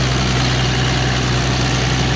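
A steady, even engine idle with a deep low rumble and constant vibration, loud and close, with no talking.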